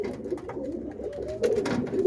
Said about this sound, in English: I gotta get these birds up.